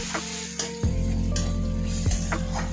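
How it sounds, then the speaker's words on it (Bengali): A paste of ginger and garlic fries with tomato and onion in a pan, giving a steady close sizzle that holds for the whole span, with soft scraping stirs at intervals and no voices. "আদা রসুন বাটাটাও প্রায় ভাজা ভাজা হয়ে গেছে।"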